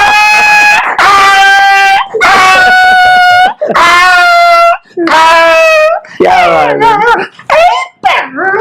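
A man imitates a dog yelping and whimpering after being struck by a stone, a string of loud, close, pitched wails and yips in quick bursts with brief gaps, ending in shorter choppy cries, while another person briefly speaks.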